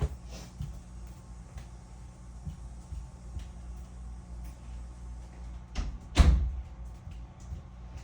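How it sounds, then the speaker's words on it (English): A door being pushed shut indoors, heard as one fairly loud thump near the six-second mark after a quiet, humming room. "I need to go close the door where there's a noise happening."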